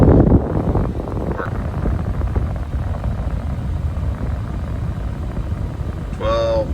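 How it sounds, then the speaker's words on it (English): A 2014 Toyota Tundra's cabin air blower motor runs at full speed, a steady broadband whoosh of rushing air that fills the cab throughout, with a brief squeak or chirp near the end. "blower all the way up."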